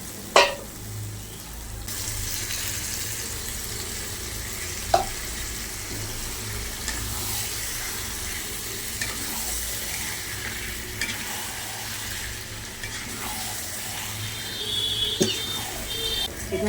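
Chicken pieces sizzle in spiced masala in a pan while being stirred, a steady close frying crackle with occasional scrapes and clinks of the spoon against the pan, no talk.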